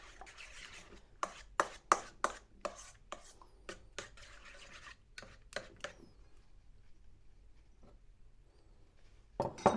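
Egg being stirred into cheesecake batter in a bowl, heard as a run of sharp, evenly spaced knocks and scrapes from the utensil against the bowl, loud and close, fading to quiet before a final clatter.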